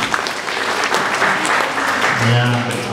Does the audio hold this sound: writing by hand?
no